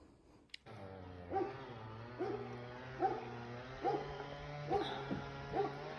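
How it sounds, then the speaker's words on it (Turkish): A dog gives repeated yelping barks, roughly one every second, moderately close, with a steady hum underneath. "Şeylerin köpeği havlıyor."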